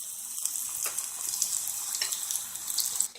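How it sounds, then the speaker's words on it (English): Fried green tomatoes frying in hot oil in a pan, a soft continuous crackling sizzle with scattered pops, fairly faint and close. "the fried green tomatoes are frying up quite nicely"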